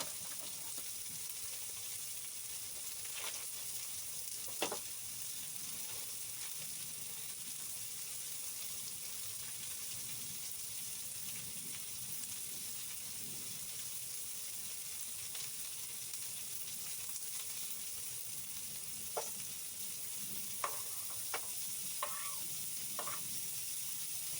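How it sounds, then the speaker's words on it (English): Butter frying in a pan at a below-zero tarp tent camp, a steady soft sizzle throughout with a few sharp pops and crackles, no talking. "I need to throw some more butter in"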